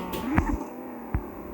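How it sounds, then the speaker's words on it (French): A pet cat in a room gives a short, rising meow near the start, followed by a faint second sound over a steady electrical hum. "c'est rien, c'est mon chat."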